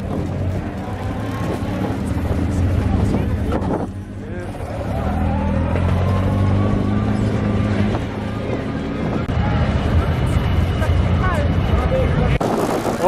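Banger race cars roar around a local track, engines revving loudly and passing near and far with a brief dip, while people talk excitedly over the noise.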